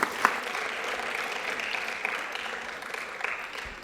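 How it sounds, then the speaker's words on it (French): An audience at a verbal jousting final applauds, steady clapping from a crowd that holds evenly before tapering slightly. "Je pense qu'on peut applaudir les 6 binômes qui sont passés ce soir."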